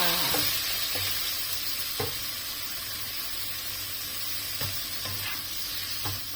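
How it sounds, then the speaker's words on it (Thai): Pork stir-frying in hot oil in a wok, with egg added: a steady loud sizzle throughout, punctuated by several sharp scrapes and clanks of a spatula stirring at irregular intervals, no talking. "ใส่น้ำมันแล้วก็ใส่หมู ผัดหมูให้สุกก่อนค่ะ"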